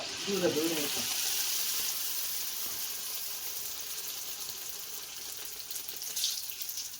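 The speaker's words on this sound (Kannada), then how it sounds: "ಎಣ್ಣೆ ಚೆನ್ನಾಗಿ ಕಾದಿದೆ ಇವಾಗ ಒಂದೊಂದೇ ಅಮ್ಮ ಬನ್ಸ್ ಎಣ್ಣೆ ಒಳಗಡೆ ಬಿಡ್ತಾ ಇದ್ದಾರೆ" Mangalore buns dropped one at a time into hot oil, giving a steady hiss of frying throughout, with a brief burst of talk near the start.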